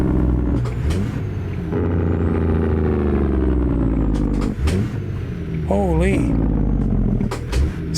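A DD60 14-liter diesel truck engine drones in American Truck Simulator, a deep, steady rumble with shifting harmonics. Someone talks over it now and then.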